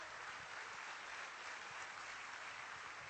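A crowd claps steadily, a dense, even wash of applause that holds from start to finish with no voices rising above it.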